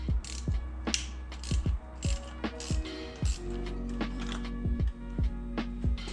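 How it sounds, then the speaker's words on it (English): A 7mm ratchet loosens a tight distributor cap screw on a 1991 Nissan 240sx, giving repeated sharp clicking bursts of pawl ratcheting with short pauses between strokes. The sound is close and there is no voice. "so I'm going to use a ratchet on this one"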